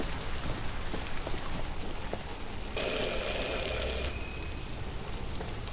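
A doorbell buzzes with a held, steady ring for over a second in the game Detroit Become Human, set against a constant rain-like background wash.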